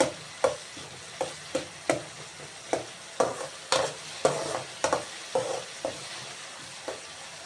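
Cabbage frying with onion in a pan, stirred in a brisk regular rhythm of scraping, clacking strokes over a light steady sizzle, close and clear without speech.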